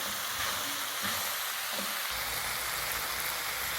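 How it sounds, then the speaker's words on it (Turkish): Steady frying sizzle from leeks sautéing in a pan over high heat, a continuous crackling hiss with occasional stirring clinks, no voices. "güzelce kavuruyoruz arkadaşlar"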